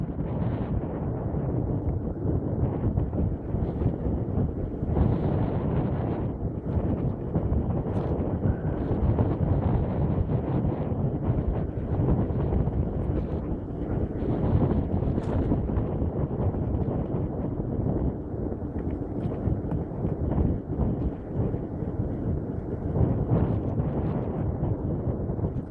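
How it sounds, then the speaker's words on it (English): Cold winter wind roars steadily across the microphone during an eBike ride at about 35 km/h, a continuous loud buffeting rumble that never lets up. "By Jesus, that wind's cold."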